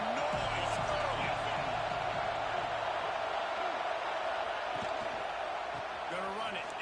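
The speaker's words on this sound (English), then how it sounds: "This crowd bringing the energy and noise early" A football stadium crowd makes a steady, distant roar of noise, with a commentator talking over it throughout.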